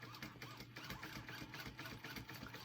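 A sewing machine runs at a slow, steady speed, double top stitching a Brooklyn Traveler bag, its needle chattering in a fast, even rhythm close by.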